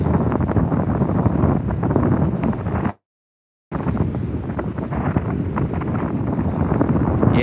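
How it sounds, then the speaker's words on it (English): Strong wind buffets a microphone on an Australian beach at sunset, a loud, steady low roar with gusty flutter that cuts out briefly partway through, then resumes just as heavily. "the wind is starting to pick up"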